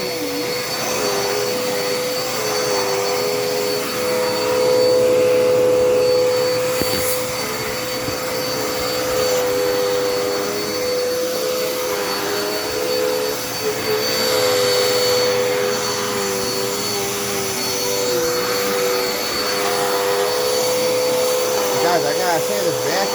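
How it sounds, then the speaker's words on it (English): A Dirt Devil Endura Reach vacuum cleaner runs steadily and loudly throughout, a constant motor whine and airflow roar with a slight rise partway through. "this vacuum's doing a really good job on keeping the floor clean"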